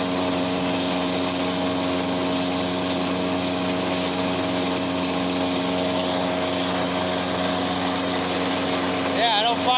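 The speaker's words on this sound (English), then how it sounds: "They say that tractor shouldn't get that hot running this." A tractor engine drones steadily while running a bedding chopper on a farm, a loud, even mechanical hum with strong tonal layers throughout, and a voice briefly audible near the end.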